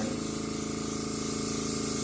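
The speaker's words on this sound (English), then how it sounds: "I keep my hand moving, because you don't want to just spray and have paint clump up in one spot" Spray gun applying latex paint, a loud continuous hiss of atomized spray with a faint rapid pump pulse underneath, steady throughout.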